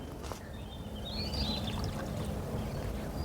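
Water mixed with humic acid is poured onto the base of plants, a soft continuous splashing pour close by and steady for a few seconds.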